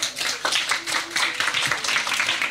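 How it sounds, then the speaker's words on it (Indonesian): An audience claps together at a youth church gathering, a dense, steady patter of many hands, fairly close, with no talk over it. "Oke, tepuk tangan dulu dong"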